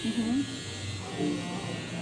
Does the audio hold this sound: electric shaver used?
yes